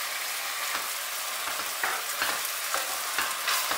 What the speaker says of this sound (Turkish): Beraber kavurmaya devam ediyorum hepsini birlikte.